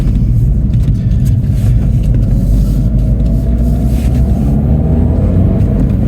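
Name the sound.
Mini 1.6 turbocharged engine accelerating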